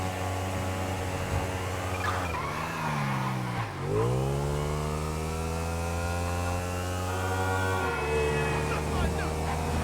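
A silver motorbike in GTA 5 revs and whines at high speed, about 90 miles per hour, pitch rising and dipping through gear changes, with a steady hum underneath and no clear speech.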